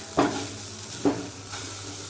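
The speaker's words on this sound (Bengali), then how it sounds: "এই যে কুদ্রি ভাজা কুদ্রি ভাজা হচ্ছে" Ivy gourd (kundri) frying in a pan makes a close, steady sizzling hiss, broken by two short scraping stirs near the start.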